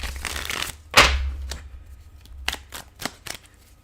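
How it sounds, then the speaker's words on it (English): Tarot cards being shuffled in several crisp riffles and snaps, one loud burst followed by quieter flicks, close by with no talking. "Let's get another shuffle in here."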